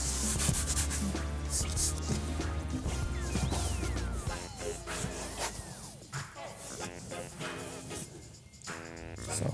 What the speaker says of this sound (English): you can go back to using your scrub brush. Very similar. Spray it on here. Rub it down onto your leather.